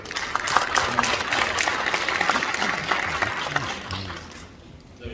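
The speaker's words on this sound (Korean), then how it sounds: "박수." Audience in a large church auditorium clapping during an inauguration thanksgiving service, dense steady applause at moderate distance that tapers off near the end, with faint voices beneath it.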